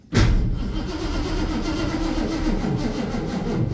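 A 1969 Ford Mustang fastback with a dead battery cranks without catching, a loud, steady, grinding churn that starts abruptly and holds for several seconds close by.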